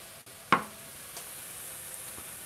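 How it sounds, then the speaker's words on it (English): A potato dropped into an oiled pan to sear alongside chanterelle, lion's mane and cauliflower mushrooms, giving one sharp contact hit followed by a soft, steady sizzle, close and quiet. "And you wait till I put some oil in the pan, and then I can go ahead and sear my potato."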